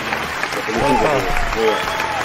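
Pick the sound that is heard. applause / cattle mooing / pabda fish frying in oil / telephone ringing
applause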